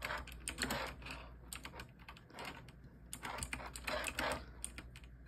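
Fingers type a name on a computer keyboard in quick, uneven bursts of close, clear key clicks with brief pauses between runs.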